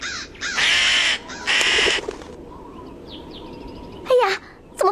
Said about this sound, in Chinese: 哎呀，怎么飞来一只乌鸦，